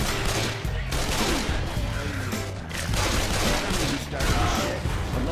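Dense, continuous gunfire from a Left 4 Dead 2 zombie-apocalypse match, rapid overlapping automatic bursts and booms filling the whole stretch, with players' voices talking over the shooting.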